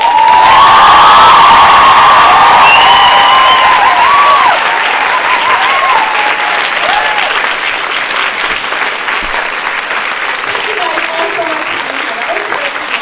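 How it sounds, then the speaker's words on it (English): A large convention crowd at Fan Expo Canada breaks into loud applause mixed with cheers and whoops, thick and sustained at first, then easing into steadier clapping with scattered voices over about thirteen seconds. "Holy cow, a huge round of applause."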